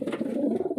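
A single low, soft coo from a racing pigeon, red check or blue check, close by and short, with no other sounds.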